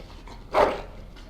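Dog in the video game Dragon Age: Origins giving a single short bark midway, close and fairly clear over a quiet background with no talk.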